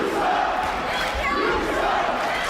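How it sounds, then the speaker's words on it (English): Wrestling arena crowd in Los Angeles jeering at wrestler Jessie Jones at a Women Of Wrestling event: a dense, loud, continuous wall of booing and shouting voices that swells and falls slightly with no clear pauses. "this crowd's letting Jessie know what they think of her"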